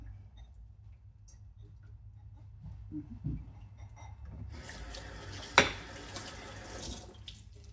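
Dishes rinsed under a running kitchen tap, quiet at first with small clicks and clinks, then a steady hiss of water begins partway through with a sharp knock of a dish.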